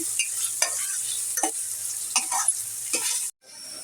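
Onions frying in a pan for mustard hilsa, a steady bright sizzle with soft scraping stirs every half second or so, close up and alone, cutting out briefly near the end before the sizzle returns.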